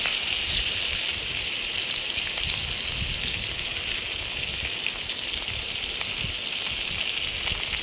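Hilsa fish heads sizzle in hot oil with five-spice, green and dried chillies and bay leaf, a steady dense hiss and crackle running throughout without a break.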